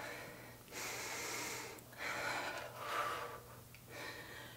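Heavy breathing during a total-body strength workout, several loud, close inhales and exhales in an uneven rhythm with breathy gasps and snorts.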